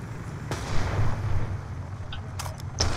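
A weapon firing in Black Ops 2, with a few sharp, spaced reports over a low rumbling battle background, moderately loud and with no voices.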